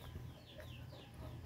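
Hens and chicks of a native local chicken breed cluck softly in a rural province yard, faint, scattered calls over a low steady background rumble.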